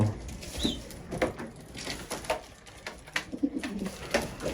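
Pigeons of an unusual breed coo softly at close range, with the female calling. The low cooing comes in irregular bursts alongside light fluttering and shuffling noises.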